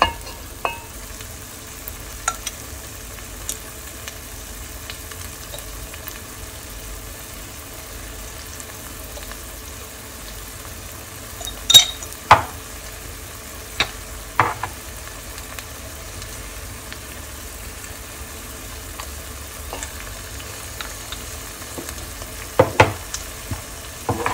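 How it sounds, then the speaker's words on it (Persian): A mixture with spices, grated carrot and bell pepper is stirred in a pan for a traditional Gilani sour shami dish, a soft low sizzle broken by a few sharp spoon knocks against the pan. "خوب همش میزنیم"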